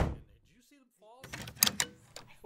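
A door shuts in a vintage radio drama, a few soft thumps and knocks after a stretch of quiet, fairly faint and heard briefly after voices.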